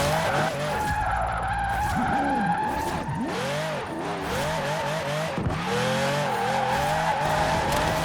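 Tires on a Ferrari 599 drift car squeal in a long, continuous skid during a drift in Forza Horizon 4, the rubber whine wavering in pitch over a steady revving engine, loud and close throughout.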